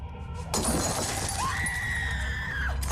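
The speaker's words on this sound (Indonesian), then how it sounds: "Seseorang terdengar melempar kaca dengan sebuah kursi." Glass smashed with a chair shatters suddenly and loudly, a crashing break with scattering shards, followed by a high, drawn-out scream-like cry.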